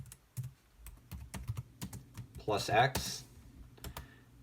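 Typing a terminal command on a computer keyboard: a run of quick, close key clicks in an uneven rhythm, with a brief burst of speech partway through.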